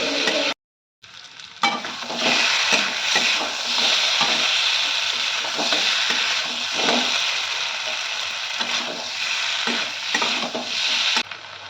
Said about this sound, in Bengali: একটু সময় নিয়ে সব কিছু ভালোভাবে কষে নেব।